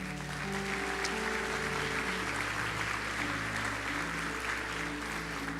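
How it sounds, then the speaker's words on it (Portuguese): A church congregation applauds during worship. Continuous clapping texture sits over sustained keyboard chords that keep playing underneath, at a moderate, even level throughout. "Dê um aplauso ao Senhor."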